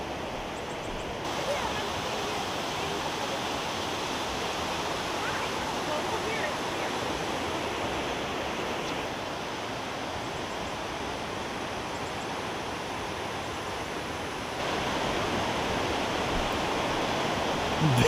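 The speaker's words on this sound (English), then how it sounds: "The water is just dripping down from above." Continuous rushing, splashing water drips down from a cliff nearby, a dense hiss that holds constant throughout without pause.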